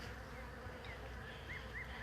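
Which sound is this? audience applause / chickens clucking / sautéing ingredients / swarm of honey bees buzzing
swarm of honey bees buzzing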